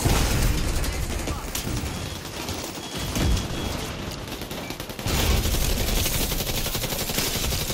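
Gunfire in The Division 2 video game rattles as dense, rapid automatic fire, close and loud, with a short lull near the middle before a heavier stretch of shooting.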